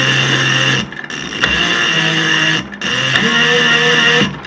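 An electric motor running in reverse with an abnormal background noise, a loud steady whine with harmonic hum that cuts out briefly twice and resumes, close and alone without talk.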